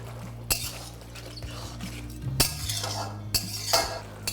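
Ginger paste and green chilli paste are fried in a pan, the quiet sizzle broken by sharp scrapes and clinks of a metal spatula against the pan, several distinct strokes, no talk.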